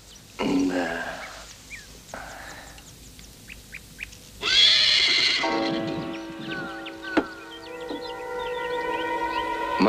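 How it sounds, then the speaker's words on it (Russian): A stray horse in a forest farmyard gives a loud, close whinny that trails into shuddering neighs, with birds calling faintly around it. "вы что, и лошадь в хозяйстве держите?"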